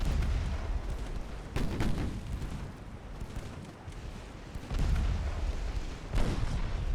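Naval gunfire in the video game Ultimate Admiral: Dreadnoughts: a few heavy, booming salvos, around three of them, rise over a continuous low rumble of battle, loud and close.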